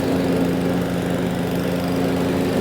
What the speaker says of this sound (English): So that lawnmower started right up.